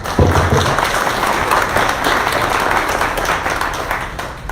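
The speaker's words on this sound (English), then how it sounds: "let's give him a big round of applause" A meeting audience applauds a first-time attendee, a sustained, fairly loud round of clapping that fades slightly toward the end.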